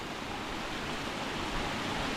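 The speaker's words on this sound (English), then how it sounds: "And here's the waterfall." Lower Eagle Falls, seen from a pedestrian bridge, gives a steady, broadband roar of rushing water, constant and fairly loud with no other sounds over it.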